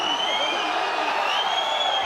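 A rugby stadium crowd at an Under-20 Six Nations match between Italy and France reacts with a steady, sustained roar and whistling, filling the space evenly throughout.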